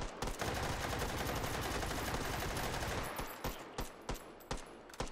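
Rapid automatic gunfire in the VR shooter Hot Dogs, Horseshoes & Hand Grenades, a loud, dense, continuous burst of shots that breaks into a few separate, spaced single shots near the end.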